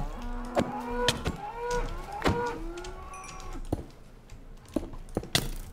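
Several cattle in a video game moo in a string of drawn-out, close calls, with scattered game thumps and clicks between them.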